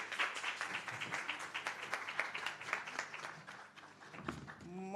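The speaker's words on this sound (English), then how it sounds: "May I have a round of applause for her" At a Jamaica Archives and Records Department ceremony, an audience claps in a dense patter of applause that fades near the end, when a voice begins speaking.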